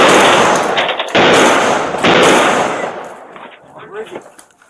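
Police gunfire at a suspect: loud, close, sharp blasts in a rapid burst, each ringing out and decaying, followed by fading clatter and faint movement.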